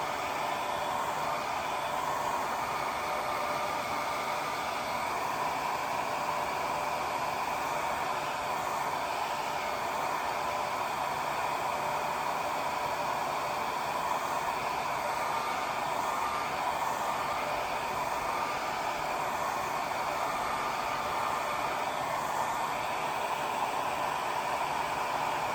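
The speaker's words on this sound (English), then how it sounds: "I love this hair dryer. It's been wonderful to use with my watercolor." A hair dryer blows steadily on watercolor paint, a constant airy roar that stays level and close the whole time, with no talking.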